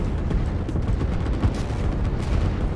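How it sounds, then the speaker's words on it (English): Artillery firing in the strategy game Line War, heard as a dense rumbling stream of low booms and blasts, moderately loud and continuous, with no voices. "Artillery are moving in over here, and they are firing and getting some free shots on here"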